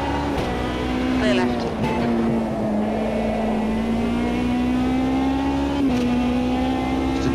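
A Radical race car lapping Brands Hatch in the Automobilista 2 video game, its engine a steady high drone that holds pitch with small dips between gear changes, loud and continuous throughout.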